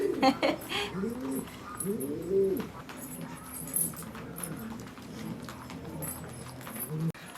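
Low, rolling pigeon coos repeat in the opening seconds over a busy rural farmyard background in northern Shaanxi with scattered clatter, then fade into softer ambient noise.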